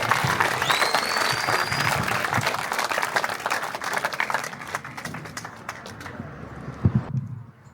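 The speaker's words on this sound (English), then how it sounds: "Could you literally give him a round of applause, please?" A crowd at an outdoor protest applauds a guest speaker, a broad wash of clapping that fades gradually, with a thin whistle early on and some talk mixed in near the end.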